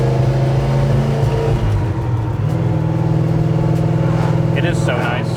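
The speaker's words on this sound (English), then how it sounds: "Makes great noises, that 3-inch exhaust." A 1972 Pontiac GTO with an M21 gearbox and 3-inch exhaust rumbles steadily from inside the car, its engine droning low and continuous while a brief hiss rises near the end.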